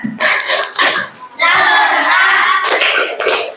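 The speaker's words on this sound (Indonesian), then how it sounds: "Oke, Ibu kasih yel-yel. Tepuk semangat." A teacher leads a classroom of children in a rhythmic clapping cheer, with bursts of group clapping and chanting voices alternating with a sustained stretch of loud, bright clapping in the middle.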